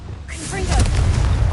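A Confringo fire spell in the Hogwarts Legacy video game explodes as a loud, rumbling blast that swells and holds over a second of sustained crackling roar.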